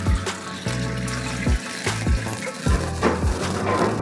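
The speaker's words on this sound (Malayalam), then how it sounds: "ഇനി ഇതിലോട്ട് ആവശ്യത്തിന് ശർക്കര കാച്ചാനുള്ള വെള്ളം" Water poured into a pan to melt jaggery for a sweet, heard as close splashing pours that come in several short bursts over a low hum.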